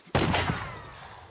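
Gunfire in the video game Days Gone: a sudden loud burst of several rapid shots that rings out and slowly fades over about a second.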